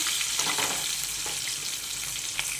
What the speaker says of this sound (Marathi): दोन मिनटं आपण मिरची तेलामध्ये फ्राय करून घेऊया